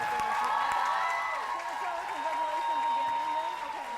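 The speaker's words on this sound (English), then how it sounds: "how about a big round of applause for Cindy Jane, a runner-up." A crowd applauds at a PWBA women's bowling tournament for the runner-up, steady clapping and murmur lasting throughout, with a tonal hum and voices running over it.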